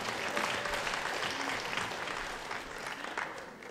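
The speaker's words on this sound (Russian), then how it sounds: "Аплодисменты," An audience at a KVN comedy show (2015 championship quarterfinal) applauds, sustained clapping at moderate loudness that slowly fades toward the end.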